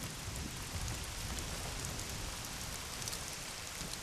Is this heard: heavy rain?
yes